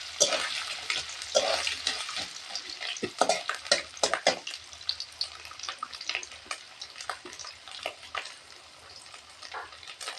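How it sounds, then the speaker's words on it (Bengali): Grated coconut fries in a pan as a spoon stirs it, giving close, irregular scrapes and clacks over a soft, continuous sizzle. "নারকেলটা একটু ভাজা ভাজা হবে।"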